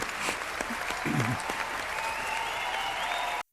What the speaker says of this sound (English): Gonna need you to clap for the both of us.